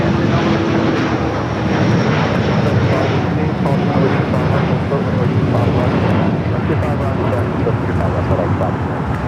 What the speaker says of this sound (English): This is Latam 603 going to Santiago, 10-year-old Boeing 787-8 Dreamliner.